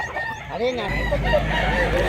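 Roosters crowing at a busy chicken market in Mantalungon, Cebu: overlapping crows from several birds, one near and others farther off, over steady market hubbub.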